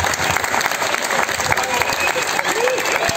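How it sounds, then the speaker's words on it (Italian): A crowd claps steadily throughout, a dense, lively patter of applause heard from within the audience. "Un grande applauso, Filippo Spreafico."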